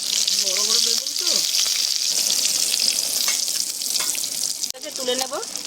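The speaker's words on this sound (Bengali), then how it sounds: "বেগুন ভাজবো, তার জন্য কড়াই গরম হয়ে গেছে, এবার তেল দিয়ে দেবো।" Large eggplant pieces fry in hot oil in a wok, making a loud, steady, close sizzle with a couple of brief voiced sounds over it.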